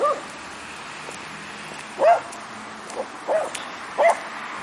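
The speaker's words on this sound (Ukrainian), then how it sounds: "Чого ти гавкаєш на нього?" A dog barks in short sharp yips, about four or five spaced barks over faint outdoor background noise during a walk in a yard.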